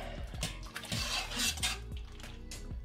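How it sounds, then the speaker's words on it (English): Yarn dye is stirred in a pot, with a utensil scraping and clinking against the metal sides in quick, busy strokes, close by. "just give it one more stir"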